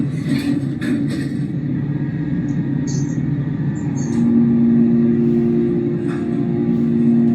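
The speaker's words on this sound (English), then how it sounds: "let's listen to this new motor" A Flora hydraulic elevator motor runs steadily with a low rumbling hum, settling into a firmer, more even drone partway through, with faint clicks and rustles nearby and no speech.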